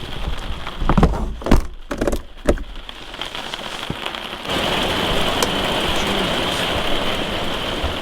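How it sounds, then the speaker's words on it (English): Steady rain pours down during a storm, a dense hiss that swells louder after a few seconds, with some thuds and knocks early on and no voices. "It started to rain. And you can hear the thunder and lightning."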